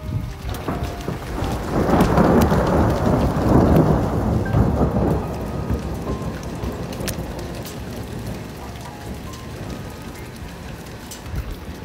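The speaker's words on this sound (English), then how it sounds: "Lightning, thunder, and oh, here it comes. And hail." A heavy rumble of thunder rolls over steady rain and graupel, swelling loud in the first few seconds and then easing into a softer, continuous downpour.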